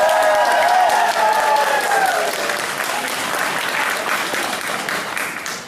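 An audience at a nerd parody club meeting claps and cheers loudly to vote, a dense burst of applause from a crowd that fades slightly over several seconds, with voices mixed in at the start.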